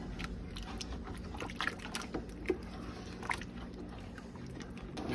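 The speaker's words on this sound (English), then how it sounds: "add the pectin, stir that in well" Pectin is stirred into hot garden tomato jelly in a pot, giving soft wet sloshing and light scraping in a steady, low, close texture with no talking.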